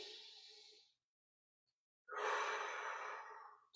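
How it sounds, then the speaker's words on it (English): Deep breaths during a yoga session, a long close exhale followed by a pause of silence, then a loud drawn-out inhale or exhale, no talking. "Let's take three deep breaths here."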